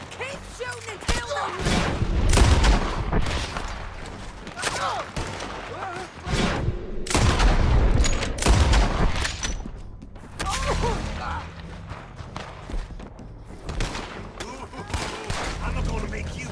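Repeated bursts of gunfire in Red Dead Redemption 2, loud volleys and scattered shots through a chaotic firefight, with voices shouting over the shooting.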